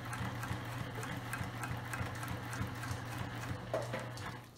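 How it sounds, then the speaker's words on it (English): A sewing machine top stitches a zipper tote bag with a steady, moderately loud hum and faint regular ticking of the needle, running continuously before easing off at the end. "here at the sewing machine, and we are going to top stitch"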